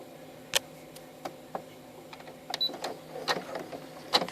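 Home embroidery machine stitching out the top of a pumpkin design, sharp irregular ticks and clicks of the needle mechanism with soft whirring between, close and fairly quiet.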